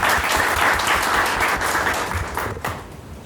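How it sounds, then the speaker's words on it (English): An audience at a presentation event applauds with loud, dense clapping that begins at full strength and fades gradually toward the end. "Can we please give another round of applause?"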